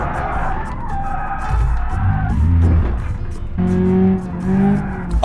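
In the BeamNG driving game, a car's engine revs and drones while its tyres squeal and skid in long, loud, sliding bursts, close and continuous.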